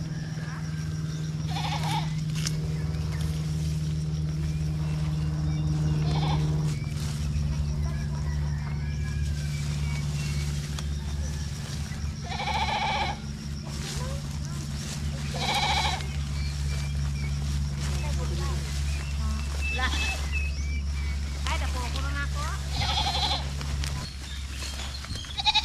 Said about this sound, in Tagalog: Magkuha muna tayo ng pagkain ng kambing kasi parang tinatawag na nila tayo.